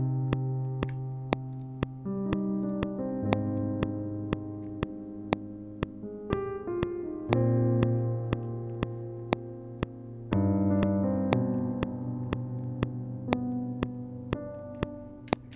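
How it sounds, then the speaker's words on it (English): A sampled piano part is played back in Cubase through Kontakt, a clean and fairly quiet run of sustained chords and single notes under faint regular clicks. "Okay, so this is my piano part."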